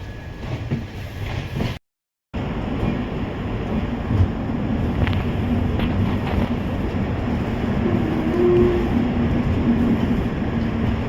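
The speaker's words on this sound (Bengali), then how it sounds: "আমাদের ট্রেন চলে দমদম জাংশনে নির্ধারিত সময় প্রায় দশ পনেরো মিনিট আগেই আমাদের ট্রেন চলছে" A passenger train running near Dum Dum Junction toward Sealdah, heard from on board as a continuous, loud rolling rumble with wheel clatter and a brief dropout near the start.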